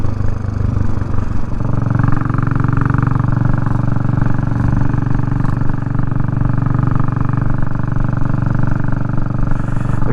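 A Royal Enfield 350 Bullet motorcycle riding along, its engine thumping steadily and loudly up close with a constant rumble and a mechanical clatter.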